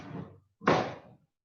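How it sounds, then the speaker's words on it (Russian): A door swings shut indoors with a single solid thud that rings briefly, following a softer rustle of movement just before it. "Дверь закрой."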